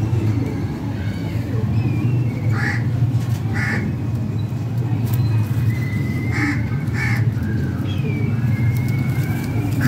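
Pigeons in a loft coo and call in short bursts over a constant low rumble of background noise, with several bird calls repeating through the scene.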